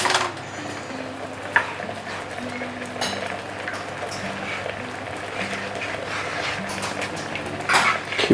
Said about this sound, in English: Keep on stirring. And your golden sauce is basically ready.